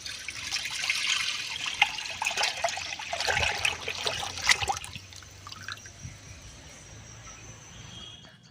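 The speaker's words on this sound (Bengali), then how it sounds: "এবার কড়াতে দিয়ে দিচ্ছি" Milk pours into a kadai for making kheer in a village kitchen, a steady trickling, splashing stream that is loud and close for about five seconds, then eases into a softer dribble with no voices.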